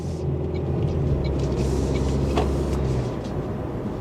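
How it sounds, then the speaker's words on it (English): The four-cylinder engine of a 2025 Toyota Prius Limited drones steadily while driving, a loud low hum heard from inside the cabin, mixed with road rumble and no talking. "this 4-cylinder does make some noise, but that's to be expected"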